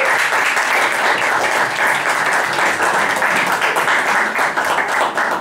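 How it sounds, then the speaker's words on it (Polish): Audience applauding competition laureates at a 2017 music contest, a sustained, even wash of hand clapping filling the hall from start to finish, with no voices over it. "Wielkie brawa dla laureatów."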